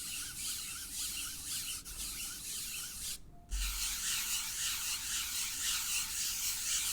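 A finger rubs steadily across the gritty textured face of a pickleball paddle, a close, continuous dry scraping hiss with one brief pause midway, heard alone.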